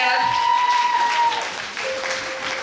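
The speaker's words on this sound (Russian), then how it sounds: "Встречаем бурными аплодисментами 489-й отряд" Audience applause at a children's camp concert held on an open day, steady and dense throughout, with a sustained musical tone running beneath the clapping.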